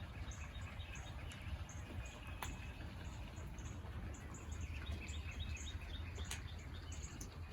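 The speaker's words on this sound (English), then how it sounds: "There are a few little birds chirping." Small birds chirp in short, scattered calls through a quiet snowy early morning, several thin tweets repeating faintly at a distance over a low steady background hum.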